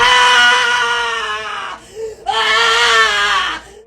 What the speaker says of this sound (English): a woman suddenly began screaming at the top of her lungs